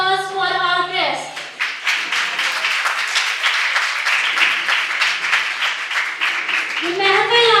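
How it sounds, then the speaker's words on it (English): Audience applause for guests at a college freshers' event in Aligarh swells into a dense, loud burst of many hands clapping, with a voice speaking over it just before and again as the clapping fades. "Give a huge round of applause for our guests."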